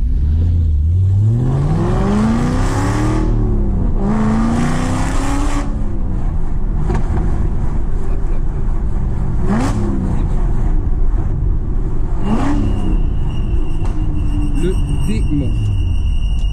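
An Aston Martin V8 Vantage revs hard to high rpm, with several loud rising sweeps and shifts up and down, the engine close and dominant throughout while someone talks over it.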